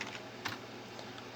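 Quick light keystrokes on a computer keyboard tap out a short burst of typing, close and soft, with one slightly louder key press.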